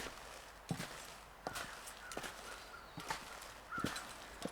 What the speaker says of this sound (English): I thought I could hear footsteps there.